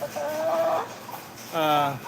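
A native country rooster among hens clucks in two drawn-out harmonic calls, close and fairly loud, separated by a short pause.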